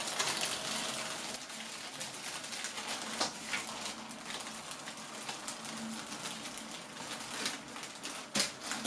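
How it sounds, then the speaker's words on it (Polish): A household hair dryer blows a steady, close broadband whoosh while warming a plastic bag around a chilled no-bake strawberry sheet cake, with faint clicks and handling taps scattered through it and no talking. "używamy do tego zwykłej suszarki do włosów. Po prostu troszeczkę podgrzewamy naokoło"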